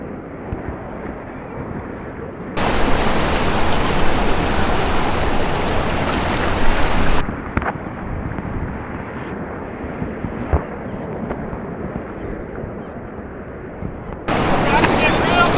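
River rapids in a cataract rush and splash around a kayak with a steady broadband roar, loud and close, alternating with calmer stretches, and wind buffets the microphone.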